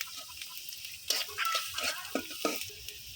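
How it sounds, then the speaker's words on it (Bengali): Chopped onions drop into garlic frying in hot oil for a lentil dish, bursting into loud sizzling with stirring scrapes, after a quiet simmer. "তো এখন দিয়ে দিলাম এই যে পর্যাপ্ত পরিমাণ পেঁয়াজ কুচি"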